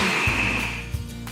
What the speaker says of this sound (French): Il vous suffira de le mixer pendant une dizaine de secondes pour obtenir de la chapelure.